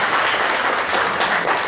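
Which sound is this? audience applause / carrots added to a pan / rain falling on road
audience applause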